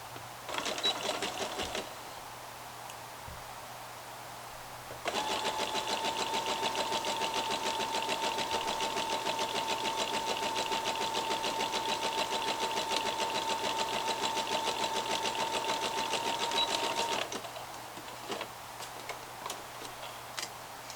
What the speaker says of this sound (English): sticking to the zigzag stitching on all of this and the 1 centimetre seam allowance